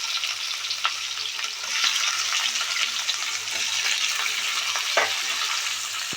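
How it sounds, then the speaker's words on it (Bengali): Onion hisses in hot oil in a home kitchen pan, giving a loud, continuous frying crackle with occasional stirring scrapes and spits, and no voices. "রাত্রেবেলা তেল গরম হয়ে গেছে, এই যে পেঁয়াজ দিয়ে দিলাম"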